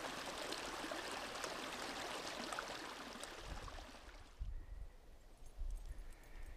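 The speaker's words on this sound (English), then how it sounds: "there is a little creek" A small creek runs beside a hiking trail in a park, its steady broadband rush of flowing water filling the scene; it grows quieter after a few seconds as low thumps of nearby footsteps or handling noise break through.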